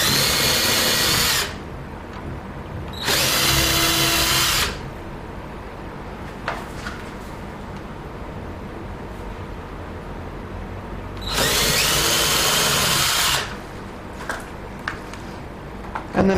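Cordless power drill driving fixing screws into the handles of a mortice lockset in timber: two loud bursts of whining motor, each about two seconds, separated by quiet pauses with small clicks of handling.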